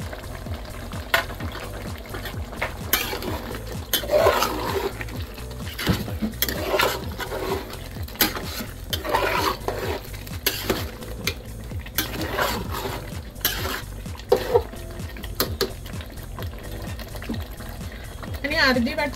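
Chicken for sukka being mixed in a pot with chicken masala, red chilli powder and coriander powder, with repeated scraping and clinking of a utensil against the pot while someone talks throughout.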